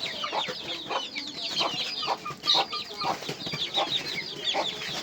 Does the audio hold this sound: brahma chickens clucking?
yes